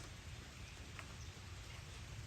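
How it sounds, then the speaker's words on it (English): Steady rain falls in a dense, even wash of noise, close and moderately loud, with no gaps across the short stretch. "This rain is not going to stop for 40 days."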